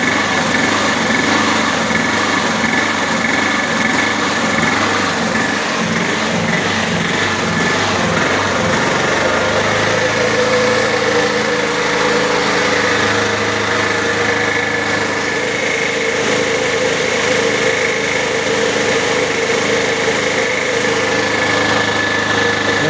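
A gas-fuelled generator engine runs steadily up close, a loud continuous drone with a pulsing, knocking rhythm that smooths and shifts tone partway through.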